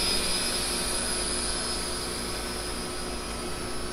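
A small Sharper Image fly-and-drive drone runs at full throttle, its rotors giving off a steady, high, buzzing whine that stays even and fairly faint throughout.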